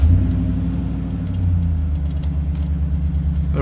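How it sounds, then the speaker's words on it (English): A gas 4WD pickup truck being hot started on a very hot afternoon, its engine rumbling steadily at a low idle close by, with no talking. "So about to hot start this truck."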